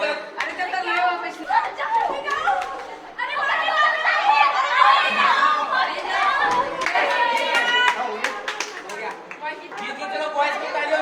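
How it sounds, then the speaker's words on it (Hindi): Group clapping at a Saturday skill-training activity session with bowling and tic-tac-toe games, scattered claps mixed with crowd chatter and some laughter, people talking throughout indoors. "चलो बॉयज की ताली हो गए।"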